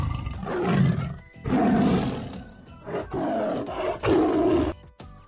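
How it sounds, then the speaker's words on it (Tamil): A tiger roars and growls in several loud, close bursts separated by short pauses, deep and rumbling with harsh, raspy tops. "புலி உரும்பும்."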